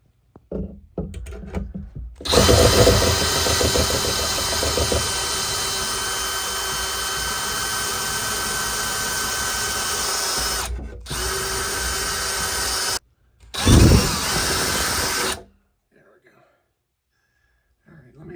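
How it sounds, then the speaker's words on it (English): A power drill bores a screw hole while fitting a replacement Nutone 696N exhaust fan, a loud, close, steady whine running for several seconds, stopping briefly, then returning in a short second burst; a voice is heard around it. "I'm going to drill a hole into that and put a screw into that"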